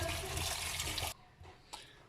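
Tap water runs steadily for about a second while bitter gourd pieces are wet in an open pot, then stops abruptly, leaving a few faint splashes and drips.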